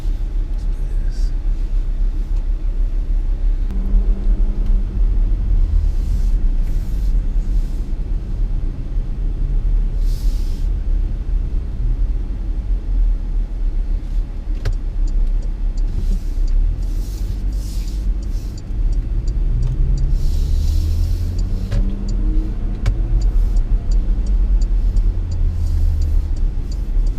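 A 2019 Porsche Macan drives with a low engine rumble and road noise heard from inside the cabin, rising and falling with acceleration throughout, while people talk over it.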